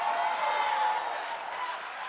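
Audience clapping at a live show, a soft, even patter of many hands that fades slightly toward the end, heard at a distance with no talk over it.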